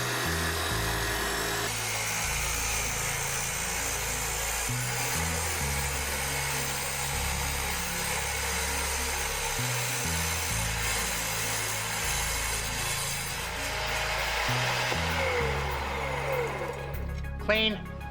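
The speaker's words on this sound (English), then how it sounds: "Quickly cross-cut this porcelain plank." A Porter Cable tile saw cross-cuts a porcelain plank, its motor whining steadily with a harsh grinding rasp of blade on tile throughout, ending in a few clattering knocks.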